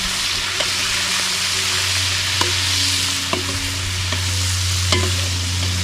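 Meat sautés in a hot pan with a continuous loud sizzle and a low hum behind it, broken now and then by sharp clinks of a utensil stirring against the pan; no voices.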